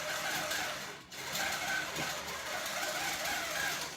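A computer-run quilting machine stitches a quilt with a steady, fast mechanical whir and rapid needle chatter, nearby and continuous apart from one brief dip.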